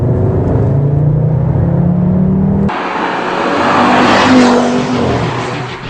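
Audi RS3 engine revving hard, a loud droning tone that rises, then shifts abruptly to a broad roaring rush as the car accelerates, with no talking.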